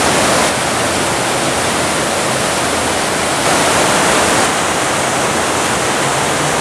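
Steady, loud rush of falling water from a Las Vegas waterfall, a broad unbroken roar that stays even throughout with no voices.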